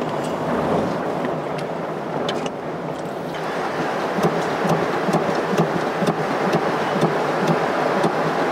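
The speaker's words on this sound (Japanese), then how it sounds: "雷まで鳴ってるよ。" Thunder rumbles low and continuously through steady, heavy rain, a dense wash of falling water that stays loud throughout.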